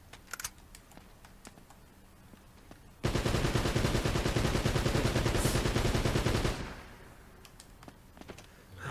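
Rifle gunfire in Uncharted: Drake's Fortune erupts as a loud sustained rapid-fire burst lasting a few seconds, framed by quieter stretches with scattered distant shots and clicks.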